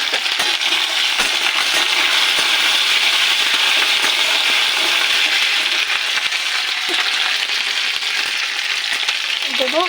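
Ginger and green chili paste fries in a pan over a carom-seed tempering with a pinch of salt. It gives a loud, continuous sizzle with small crackles and scraping, and no talking.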